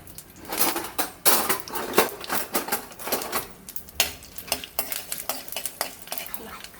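Curry leaves frying in a tempering for Telangana chamagadda pulusu, with a spoon scraping and clattering against the pan in quick irregular strokes over a crackling sizzle, loud and close.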